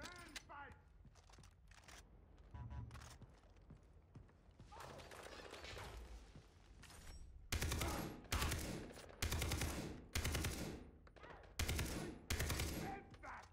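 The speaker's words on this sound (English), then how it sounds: "Somebody's shooting crazy." Gunfire in Far Cry 3: quieter scattered shots early on, then about six loud, sharp bursts of automatic fire in quick succession, each a short rattling volley separated by brief gaps.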